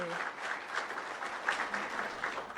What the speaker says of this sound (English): Yes, we can applaud to that, absolutely.